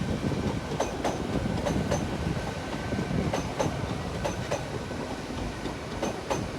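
A train at Exeter St David's station rolls past with a steady, loud rumble, broken by regular clickety-clack wheel beats and sharp rail clicks over about seven seconds.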